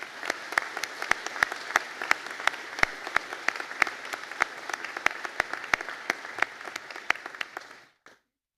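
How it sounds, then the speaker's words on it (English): Steady applause from a seated audience at a conferring ceremony for a Master of Science in Biopharmaceutical Science class, with distinct individual claps standing out over the continuous patter, holding evenly before stopping abruptly near the end. "a round of applause from everybody"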